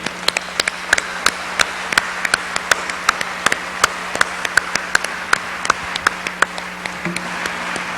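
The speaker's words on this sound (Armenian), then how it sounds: "Եկեք ծափահարենք մեր մեծերին։" Scattered, sparse audience claps at a televised Armenian music show ring out over a low steady hum, irregular and thin rather than a full roar of applause.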